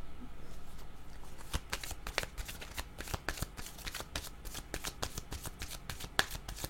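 Tarot cards are shuffled and drawn by hand in a quick close-up flurry of crisp riffling snaps and flicks, fairly quiet, with no talking.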